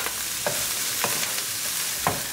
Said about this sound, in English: So keep stirring so they don't get burned